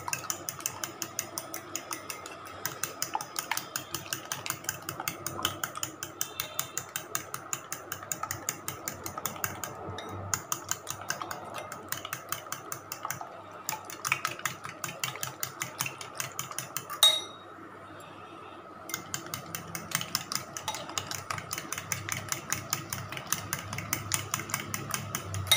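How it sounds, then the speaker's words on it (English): Egg being whisked in a bowl with chopped coriander and mint, a steady rapid clatter of metal against the dish running continuously with one brief pause, close and fairly loud. "Whisk the egg."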